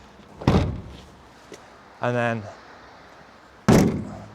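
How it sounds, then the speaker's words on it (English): Two heavy van rear door slams, one early and one near the end, with a short voice speaking briefly in between. "if you shut the doors at the same time, it'll actually close"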